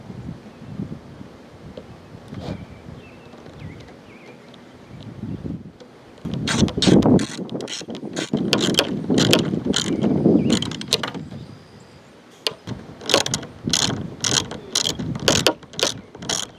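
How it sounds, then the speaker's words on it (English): Ratcheting tool tightening the sunroof screw on a 2000-2006 Chevrolet Suburban, quiet handling at first, then bursts of rapid clicking ratchet strokes, close and without talk. "I'm going to tighten down the screw in there"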